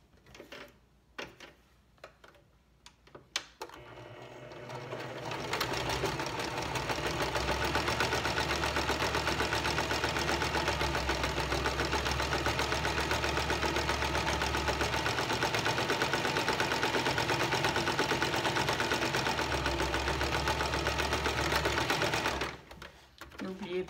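A sewing machine stitches a line on wax print fabric, running as a fast, steady mechanical whir and rattle for most of the clip, preceded by a few clicks and handling sounds and stopping near the end.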